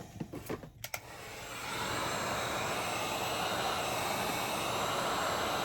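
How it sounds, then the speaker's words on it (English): A heat gun blows hot air onto molded shoe heel counter material, a steady loud rushing hiss that starts after a second of brief handling clatter and runs unbroken to the end. "what we're going to do is we're going to hit it with some more heat"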